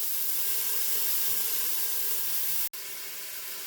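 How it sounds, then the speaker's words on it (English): Ground beef cooking in a pot, steady broadband hiss of sizzling moisture with a brief dropout near the end. "I'm going to break apart my beef as it is cooking"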